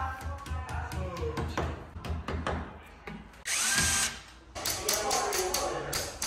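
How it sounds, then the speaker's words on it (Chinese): An electric drill with an 8 mm bit boring into a brick wall while mounting a 100-inch projector screen, giving repeated loud grinding bursts with a sustained high-pitched run in the middle, close by, between pauses and knocks. "打孔呢是用8毫米的钻头"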